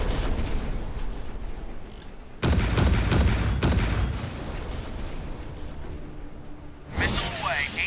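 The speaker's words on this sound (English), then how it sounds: "Target in sight. Missile away." A missile launch in the Warships Mobile video game: loud roaring whooshes and blasts that start abruptly, fade and surge again, with a rising rushing burst near the end.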